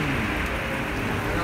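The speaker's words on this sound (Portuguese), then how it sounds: "Mas conseguem ouvir o barulho da chuva." Steady rain on a rural national road in Portugal hisses and patters, a dense, even wash of noise that holds throughout.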